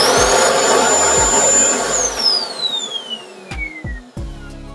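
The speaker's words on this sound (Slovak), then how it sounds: "ten vysávač ide krásne." Parkside vacuum cleaner with a remote-control switch, running loud with a steady high whine that drops in pitch as it spins down, followed by a few low thumps and knocks.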